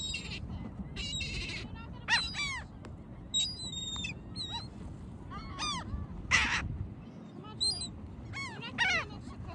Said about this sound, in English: Mom, there's a bird right here.